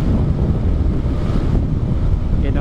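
Strong wind roars and buffets the microphone continuously while riding an MXi125 scooter, a loud, close, rushing rumble with no voices heard.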